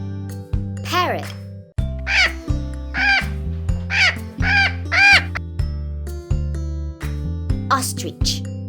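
Parrot calls in a children's animal flashcard lesson: a run of sharp, repeated bird squawks over a steady musical backing, with a voice also heard.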